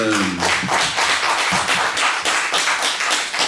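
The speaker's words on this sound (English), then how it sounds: "can we have a round of applause for Verna Duncan?" An audience claps in a round of applause for a guest at a book show interview, dense, steady clapping from many hands close by, following a short trailing voice at the start.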